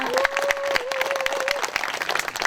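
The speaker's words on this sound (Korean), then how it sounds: "국회에서 더 힘차게 싸워주시라고 큰 박수 부탁드리겠습니다" Audience applause at a 45th May 18 memorial ceremony, dense clapping from a crowd with sharp individual claps standing out, a sustained tone running under the first part.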